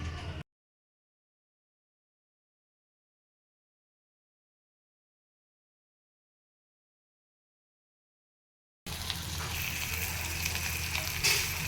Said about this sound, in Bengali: বাকি যে চিংড়ি মাছগুলো আছে সেগুলো ভেজে নেবো